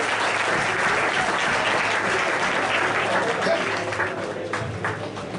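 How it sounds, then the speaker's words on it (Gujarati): A hall audience breaks into steady, dense applause during a classroom-style science session, many hands clapping together at close range for several seconds without a break, fading slightly toward the end. "આ બધા માટે તાળીઓ પાડો"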